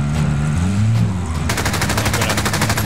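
Gunfire in the video game Warzone: rapid automatic bursts crackle loud and close, shifting midway into an even faster, steady stream of shots.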